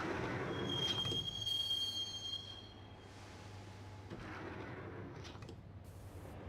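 A train in the video game Max Payne rolls along the rails with a low rumble and a long, high metallic wheel squeal, fading into a quieter steady rolling before brief squeaks return.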